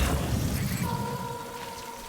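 Rain falls in the Death Stranding video game, a dense broadband hiss that thins slightly as a faint steady tone emerges, with no voices.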